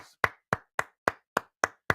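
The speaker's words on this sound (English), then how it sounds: "This applause is for you." A single loud clap repeats at a steady rhythm, seven sharp, close strikes about a quarter-second apart with silence between, not the dense wash of a crowd's applause.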